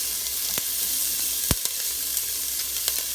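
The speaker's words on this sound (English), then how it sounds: "I just chopped a small onion, a fresh jalapeno, and about 2 or 3 cloves of garlic. I was going to saute this just for a minute" Chopped onion, fresh jalapeno and garlic sauté in an Instant Pot, giving a steady close sizzle broken by a few sharp clicks of a utensil against the pot; no one speaks.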